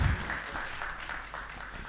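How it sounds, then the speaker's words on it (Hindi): An audience at a Hindi-Urdu poetry gathering breaks into warm applause to welcome a poet, a dense, steady patter of many hands clapping that carries on from start to finish without any talk. "ज़ोरदार तालियों से अश्विनी मित्तल ऐश का इस्तकबाल करें।"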